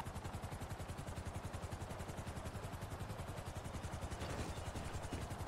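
A police helicopter in the video game GTA 5 hovers nearby, its rotor a steady, fast thumping chop that stays even and moderately loud throughout.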